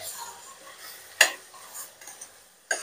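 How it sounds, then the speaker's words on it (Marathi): Chunks of pumpkin sautéed in a pan over a full gas flame, with a soft sizzle under two sharp scrapes and clinks of a spatula stirring against the metal, close up. "भोपळा परतून घ्यायचा."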